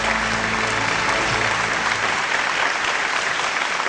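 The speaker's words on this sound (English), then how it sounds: "A big round of applause, ladies and gentlemen." Loud, dense audience applause at a televised Indian news-channel gala honoring Dr. Ambedkar, a steady roar of many hands clapping close up and continuous throughout.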